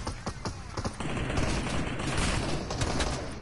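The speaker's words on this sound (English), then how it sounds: "He's getting shot by someone on the tree" Rapid gunfire in a video game: a few distinct shots, then a dense sustained volley of automatic fire at steady loudness.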